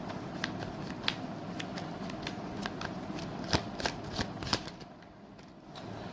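Tarot cards are shuffled by hand in a steady run of soft riffling flutters and sharper slaps, close and fairly quiet, continuing alone for several seconds before tapering off.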